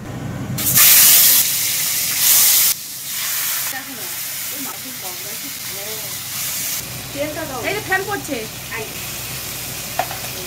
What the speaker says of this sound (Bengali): আর এর সাথে উচ্ছে আলু ভাজা হচ্ছে।